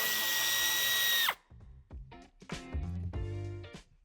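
A power drill whirs loudly for about a second, spinning out a screw from under a trim piece on a 2019-2023 BMW X6 G06 bumper, then it stops and scattered handling noises follow.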